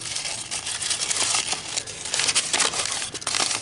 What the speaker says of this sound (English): Crumple up your brown paper.